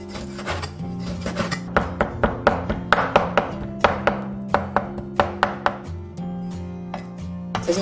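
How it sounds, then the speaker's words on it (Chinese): A knife chops pork fat into mince on a board in a kitchen, a steady run of sharp, close, evenly spaced thuds that pause briefly and resume. "准备50克肥肉切末"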